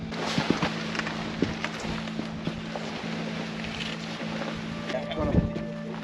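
Wind on an exposed, wet Dartmoor hike, roaring steadily into the microphone as a dense continuous rush with a constant low hum and scattered knocks and bumps.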